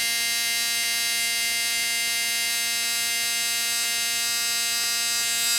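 An electric motor powered by supercapacitors runs at a steady pitch, giving a constant buzzing hum with bright harmonic overtones, moderately quiet and unbroken, with no voices.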